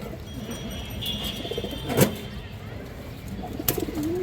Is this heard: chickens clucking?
no